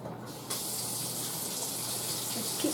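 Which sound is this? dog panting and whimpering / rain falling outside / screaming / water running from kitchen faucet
water running from kitchen faucet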